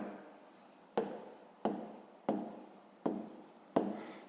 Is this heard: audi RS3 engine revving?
no